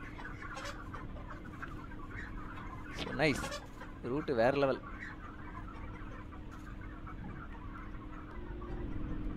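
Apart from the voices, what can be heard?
chickens clucking in a train simulator video game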